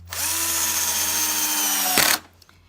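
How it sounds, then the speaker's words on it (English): A cordless drill whirs steadily at high speed, then gives a brief rattling clatter as the clutch slips before the motor cuts out. "that's the clutch slipping or disengaging"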